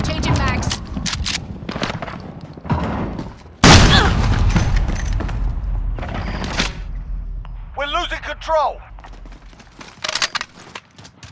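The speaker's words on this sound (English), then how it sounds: "Allied cruise missile away." Cruise missile strike in Call of Duty Modern Warfare online multiplayer, with a heavy boom and bursts of gunfire and explosions, under in-game announcer voice lines and loud game sound effects.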